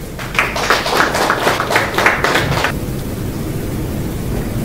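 Audience applause at a peace council ceremony, a dense burst of clapping for a few seconds that cuts off abruptly, leaving low background noise.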